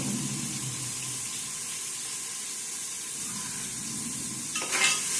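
Green chillies sautéing for chicken biryani, a steady low sizzle with stirring scrapes throughout and a brief louder splash of frying near the end, no voices.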